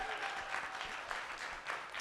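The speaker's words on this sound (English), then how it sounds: "Please give our panelists a warm round of applause." A modest audience applauds panelists at the close of a conservation panel discussion, a soft, even patter of clapping that carries on steadily throughout without speech.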